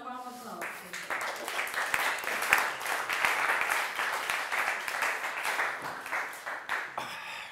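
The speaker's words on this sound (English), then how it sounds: "Welcome and a warm applause." An audience gives warm applause welcoming a speaker at a marketing talk, a thick, steady wash of many hands clapping close by, holding for about seven seconds with a murmur of voices underneath.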